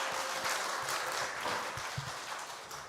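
A church congregation applauds softly in a Korean Sunday afternoon service, a faint, steady wash of distant clapping that slowly fades.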